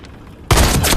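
Machine gun fire erupts in a war film battle scene, a sudden loud, dense burst of rapid shots cutting in after a quiet moment.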